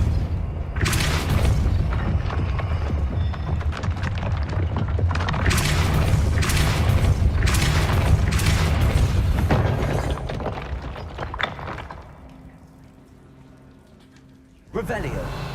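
Loud booming blasts of the Confringo explosion spell in the video game Hogwarts Legacy, several heavy bursts in quick succession over rumbling game ambience, with spoken voices in between and a final burst at the end.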